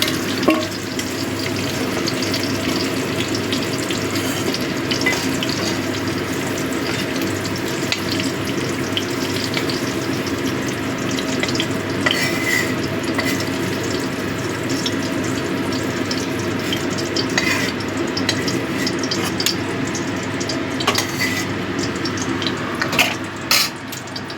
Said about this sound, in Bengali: ফুলকপিটা ভালো মতো ভাজা হয়ে গেছে, এবার আমি ফুলকপিগুলো তুলে নিচ্ছি।